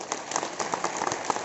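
Audience applause at a business speech event, a steady patter of many hands clapping at once, moderately loud and without talk.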